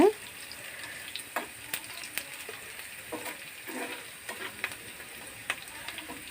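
A hot tempering hits simmering drumstick-leaf rasam with a brief sizzle, then a steady crackle carries on with scattered clinks of a spoon, no voices.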